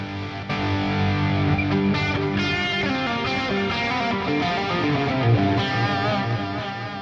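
Marshall-style preamp tone from a guitar amp modeler, a thick distorted electric guitar playing sustained chords and riffs with heavy delay and reverb, loud and continuous throughout without any talking.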